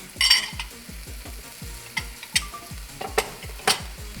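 Broccoli florets, green pepper and carrots stir-fried in a pan for pork lo mein, with a steady sizzle and a run of rhythmic scraping strokes and clacks from the stirring utensil, close and fairly loud, no talking.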